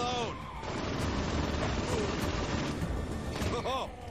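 Gunfire from shooting aliens in Saints Row IV, a sustained stretch of loud, dense in-game shots and explosions with a few brief bursts of sound at the start and end.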